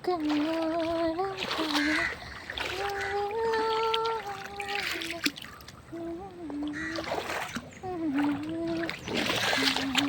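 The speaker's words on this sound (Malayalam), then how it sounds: "വെള്ളത്തിൽ കിടന്ന് ഭയങ്കര കളിയാണ്." A child splashes and plays while lying in clear, shallow water with small fish, irregular splashes mixing with a voice and steady talking over the top.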